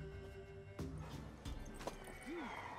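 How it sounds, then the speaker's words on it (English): A mare in The Witcher 3: Wild Hunt whinnies briefly amid game sounds and a few hoof clops, faint and somewhat distant. "Worthy of the best horse. The mare is yours."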